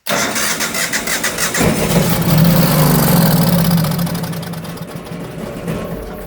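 A Generac home standby generator engine cranks and catches after a spray of carburetor cleaner, then runs at a loud, steady idle close by, with no talking.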